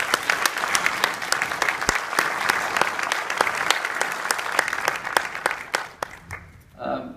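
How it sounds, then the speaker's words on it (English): A church congregation breaks into applause, loud crisp clapping from many hands with distinct sharp claps near the front, steady before fading out in the final second. "Would you give him a round of applause for knowing who he is?"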